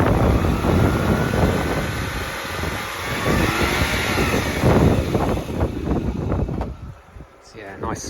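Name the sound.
rotary engine revving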